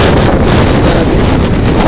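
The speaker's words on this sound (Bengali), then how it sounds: "অনেক বেশি হাওয়া এখন শুরু হয়েছে" Strong gusty wind whipping up dust and soil outdoors in Saudi Arabia, a loud continuous roar buffeting the microphone with no voices.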